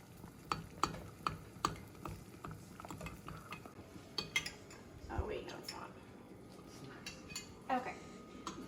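A spoon stirring melted chocolate in a pot for granola bars, with a run of rhythmic metallic clinks against the pot followed by softer scraping and scattered knocks, close up with a little background voice.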